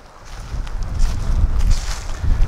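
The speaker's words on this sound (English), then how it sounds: "A little breezy today." A steady breeze rushes past the microphone at a lakeside campground, a loud low rumble of wind buffeting that swells and eases through the moment with no voices.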